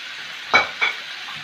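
Ginger garlic paste dropped into a hot pan for omelette noodles gives two quick sizzling bursts over a quiet background hiss, with no voices.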